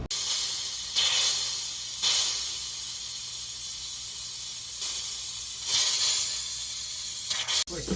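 Water rushing into an 80 gallon electric water heater as it nears full, a steady loud hiss with periodic surges, cutting off briefly near the end.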